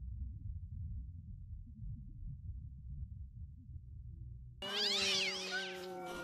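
Loud, drawn-out cat yowls and meows from the 2001 horror film Jeepers Creepers burst in suddenly after several seconds of low, dark rumble, with no talking.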